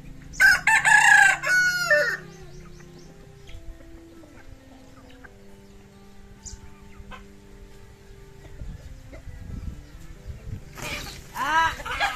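A chicken squawks, clucks and crows in loud bursts as it is caught. The calls come at the start, go quieter through the middle, then return loudly at the end.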